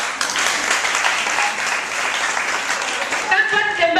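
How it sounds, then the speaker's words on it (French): Church congregation applauding during a Mother's Day sermon, a steady wash of clapping that runs throughout and swells slightly near the end, with voices mixed in. "on applaudit le Seigneur."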